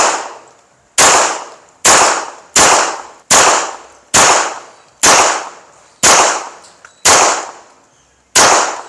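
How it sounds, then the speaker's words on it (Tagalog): An STI Executive .40 caliber pistol fired outdoors during armored SUV testing: ten loud, sharp single shots at roughly one-second intervals, each followed by a short ringing decay. "gagamit tayo nitong STI Executive 40 caliber. Shoot ulit tayo ng 10 rounds doon."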